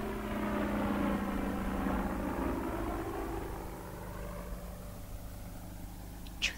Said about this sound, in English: Keep still, it's a helicopter.